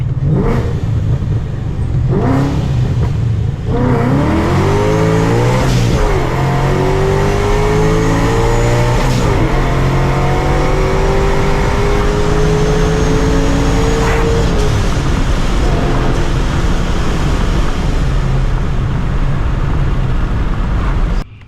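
Procharged Ford Mustang pulling hard through first and second gear: brief blips, then a loud, close engine scream with a supercharger whine sweeping sharply upward, a quick shift, another long climbing pull, then fading to a steady roar.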